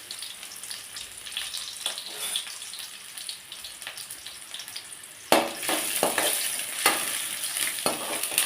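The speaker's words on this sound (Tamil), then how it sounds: "10-15 வெங்காயத்தை நீள்வாக்கில் அரிஞ்சு வச்சுருக்கேன், அதை போட்டுடலாம்" Sliced small onions (shallots) for a kuzhambu drop into a hot pan and fry: a quiet background hiss jumps into a louder, steady sizzle halfway through, with intermittent scraping strokes close by and no talking.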